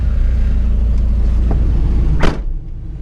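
A 1985 Toyota Corolla II SR AL21 with imperfectly set carburetors runs with a steady low engine drone, close and loud, broken by a brief whoosh near the end.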